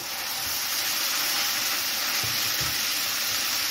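Scallops and leeks cook in a pan over medium heat with a spoonful of added water, giving a steady, even sizzling hiss throughout, with a few faint low bumps of stirring or pan contact.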